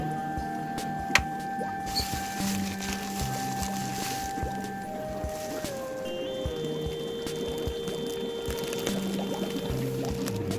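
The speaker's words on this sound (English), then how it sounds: "Take a little while to sink for the water to get in." Steady trickling and gurgling of water pouring into a fluidized bottle filter, with bubbling and a few faint knocks and background tones.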